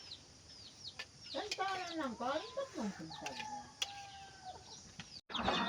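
Chickens clucking and calling nearby on a rural farm, with a few sharp bird cries, under a backdrop of outdoor ambience; a brief gap near the end.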